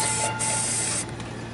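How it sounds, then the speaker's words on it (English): Metallic orange spray paint hissing from an aerosol can onto an RC car body, a close continuous spray that weakens slightly partway through. "First we're gonna spray over there."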